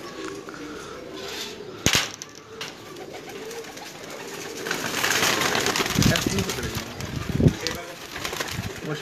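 A pigeon bred by a breeder of Sialkot coos repeatedly up close, with rustling and brief wing flaps, while people talk around it.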